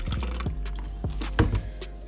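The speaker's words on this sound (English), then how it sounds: "So I'm just gonna pour it out" Orange juice and all-natural pomegranate juice poured into a measuring container, giving short liquid splashes and drips close by, with a louder gush near the end and no talking.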